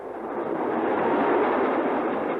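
Steady train rumble from a moving railway carriage on The Avengers, a broad continuous roar that holds evenly and fairly loud throughout with no voices.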